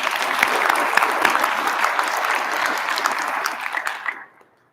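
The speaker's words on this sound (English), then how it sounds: "Let's give them a round of applause" Steady, dense applause from a crowd at a sports hall of fame banquet, full and even for several seconds, then quickly dying away to silence.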